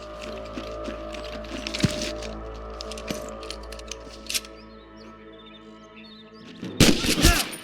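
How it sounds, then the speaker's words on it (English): Scattered gunshots crack at intervals over a steady soundtrack in the video game Red Dead Redemption, with a louder burst of fire near the end. "I can hear more gunshots."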